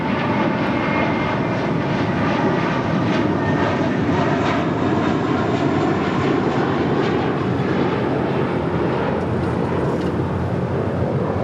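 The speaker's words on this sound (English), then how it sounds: "And coming in from Edmonton, Canada, WestJet, flight 1422" A WestJet airliner arriving at LAX from Edmonton holds a continuous, loud, even engine roar throughout, heard alone without talk.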